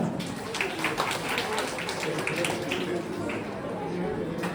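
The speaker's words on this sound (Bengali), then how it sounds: "জোরে হাত তালি একবার।" Audience applause at a recitation competition and prize ceremony: a steady wash of dense clapping from a crowd that keeps up evenly for several seconds, with some voices mixed in.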